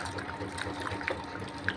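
Cooked tomatoes being mashed by hand in water for tomato kuzhambu give brief, soft wet sloshing and squelching up close, quiet and continuous.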